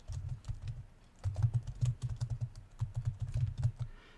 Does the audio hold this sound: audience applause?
no